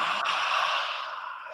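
A long, breathy open-mouthed exhale during a yawn in a relaxation yoga exercise, one soft, airy breath fading over under two seconds, close and alone without talk.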